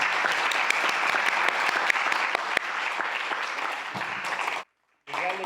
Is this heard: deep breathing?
no